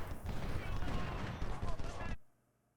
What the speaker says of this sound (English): The one really good thing about the 6-pounders is they fire very fast.